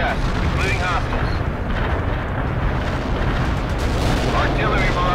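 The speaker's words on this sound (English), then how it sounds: "Artillery barrage inbound." Artillery barrage explosions in the war video game World in Conflict, a dense continuous rumble of booms and blasts filling the whole stretch at high loudness, with radio-style voices talking over it.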